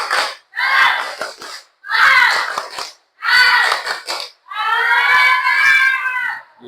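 A group of schoolchildren in a classroom perform the tepuk semangat clap chant together: four rhythmic bursts of claps and unison shouting, then a long sustained cheer, loud and close.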